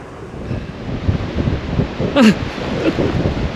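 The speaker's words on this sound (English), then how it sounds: "You can see the waves crashing over the top of those rocks there." Ocean waves on King Island break over coastal rocks in strong wind, a continuous rough wash of surf mixed with heavy gusting wind noise on the microphone.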